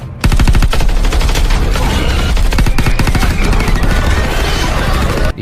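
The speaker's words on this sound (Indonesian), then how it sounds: "Mori dan Daniel pun menembaki mereka." Sustained gunfire from a sci-fi film battle as porcupines are shot at, a loud, dense stream of rapid, overlapping shots and bursts running continuously with heavy low-end booms.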